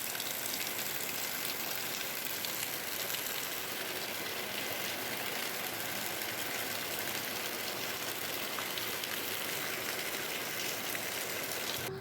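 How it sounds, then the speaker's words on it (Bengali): Steady, dense rain hisses without a break for the whole stretch, an even wash of sound with no voices. "বৃষ্টি আর বৃষ্টি"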